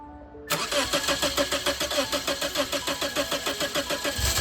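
A car's engine cranks and catches after its fuel injectors were replaced, then runs with a steady pulsing idle, loud and close, with no one talking.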